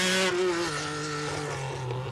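MG Metro 6R4 rally car driving past, its engine a loud, steady roar with a shifting pitch that fades slightly after the first moments, with no talk.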